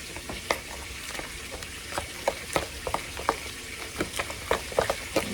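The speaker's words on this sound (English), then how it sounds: "Stir, stir, stir" Butter and milk stirred in a pot, giving a run of light, irregular scraping clicks and taps from the spoon over a soft continuous hiss, close and fairly quiet, alone.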